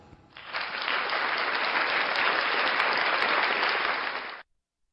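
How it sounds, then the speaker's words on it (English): A canned applause sound effect plays from a voice changer toy's button: a steady, even wash of crowd clapping lasting about four seconds that cuts off abruptly, with no voices over it. "This next button is applaud."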